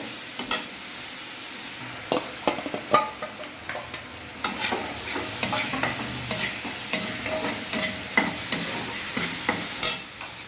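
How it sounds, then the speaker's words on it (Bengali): Lemon chicken frying in a pan with onion and garlic paste, a steady close sizzle broken by repeated scraping stirs of a utensil against the pan. "একটা ভেজে নেব যতক্ষণ লাল রং ধরে আসছে।"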